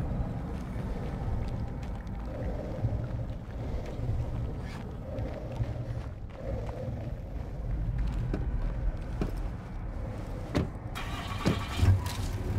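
A car engine in the zombie game State of Decay 2 runs throughout, a low rumbling drone that rises and falls with driving, with scattered knocks and a brighter burst near the end.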